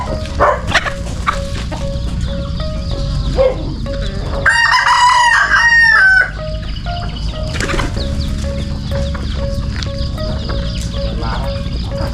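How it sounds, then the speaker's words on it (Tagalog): A rooster crows loudly and close by in one long call, amid scattered clucking from native chickens and a steady background of rustling and outdoor noise. "dami po niyang alagang mga manok mga native"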